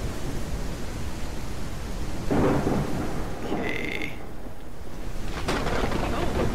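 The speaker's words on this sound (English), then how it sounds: "Nice, the rain's not raining inside." Rain hisses on a barn roof in the Ranch Simulator game, a constant wash of noise broken by a couple of low rumbling thunder swells, with no talking.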